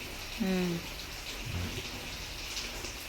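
Rain pours down during work on a shed, a constant, even hiss of falling water with a brief tonal sound near the start and a low thump midway.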